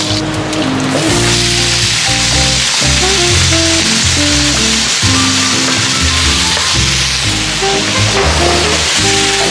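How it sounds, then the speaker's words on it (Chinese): Garlic, Sichuan pepper and dried chili stir-fry in a hot wok as the base for sour-spicy shredded potatoes, giving a loud, steady, crackling sizzle throughout with faint tonal background sounds. "炒土豆丝，今天炒酸辣口的，放点花椒、干辣椒、"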